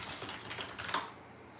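Quick keystrokes on a computer keyboard while someone types into a chat, a dense run of close, clicky taps with no talking.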